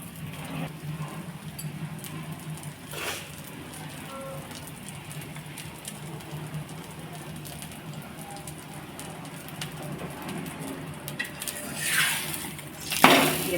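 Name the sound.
chicken paneer paratha frying in oil on a pan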